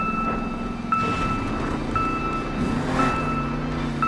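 Electronic locator beeping in a Monster Jam adventure search, sharp evenly spaced beeps about once a second over a low motor rumble, with a burst of activity near the end.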